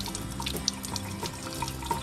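The milk frother part of a BONCAFÉ F11 fully automatic coffee machine is rinsed under a running tap, a steady splashing stream with small drips and clinks, close and moderate in level.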